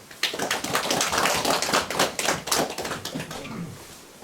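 An audience at a community lecture on village communities and the social economy claps to welcome the speaker. The claps are close and distinct, building quickly and then thinning out toward the end.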